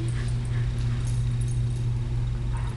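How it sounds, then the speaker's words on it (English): A dog whimpers and yips softly over a steady low rumble, high-pitched cries rising faintly a few times across the stretch, with no talking. "Takes a special dog to do what Clint's doing right now"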